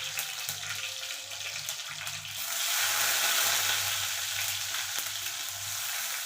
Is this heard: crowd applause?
no